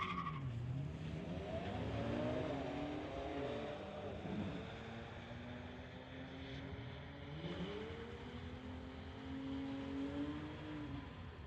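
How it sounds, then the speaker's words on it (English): A 2011 BMW and an Infiniti launch side by side down a drag strip at Mission Raceway, their engines roaring loudly with rising and falling whine as they rev through gears, continuous and close throughout. "Braden Dawn on the pit side, a 2011 BMW. Going against an Infinity on the spectator side."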